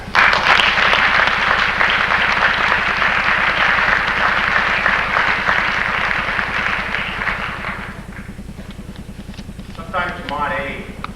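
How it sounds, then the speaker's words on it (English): Sustained crowd applause at a high school winter sports awards ceremony, loud and steady for about eight seconds before thinning out, with a voice beginning to speak near the end. "They need a round of applause for that."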